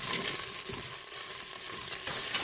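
Onion browning and being stirred in a Cookeo pot, a steady close sizzle and crackle with light scraping, no talk.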